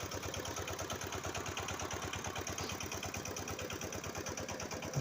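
A homemade generator built from a three-phase electric motor runs steadily, giving a close, even, rapidly pulsing engine drone that holds unchanged throughout.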